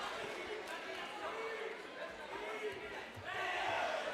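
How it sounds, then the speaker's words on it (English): Crowd at an MMA fight roars and shouts in bursts as strikes land, a noisy swelling of voices and cheers that rises again near the end, with a commentator talking over it. "The crowd reacting to every single strike."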